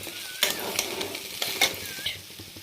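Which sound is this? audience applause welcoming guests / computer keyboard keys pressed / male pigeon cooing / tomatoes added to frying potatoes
tomatoes added to frying potatoes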